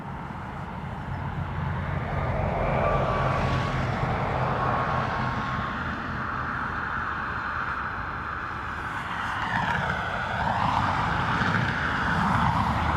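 An ATR turboprop arriving from Glasgow at Dublin Airport gives a steady, broad engine roar that holds throughout, with a faint rising whine near the end and no talk.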